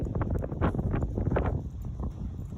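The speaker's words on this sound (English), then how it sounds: "Oh, it's windy." Gusty wind rumbles against the microphone, a continuous low buffeting roar with uneven surges.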